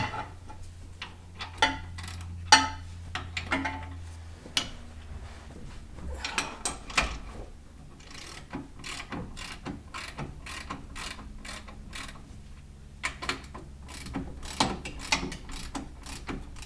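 Metallic ratcheting and clicking from loosening a leaf spring bolt on a 2008 Chevrolet Colorado pickup, with irregular bursts of ratchet ticks and clanks, close and moderately loud, no talking.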